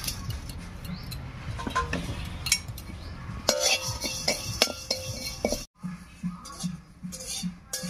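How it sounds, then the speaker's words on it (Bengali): Whole cumin and coriander seeds dry roasting in a dry pan, with a run of clinks, taps and scraping knocks from a utensil against the metal, loud at times and then softer. "এবারে আলুটা সেদ্ধ করার আগে শুকনো খোলায় একটুখানি মশলা ভেজে নেব।"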